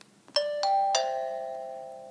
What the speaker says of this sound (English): it creates an audible chime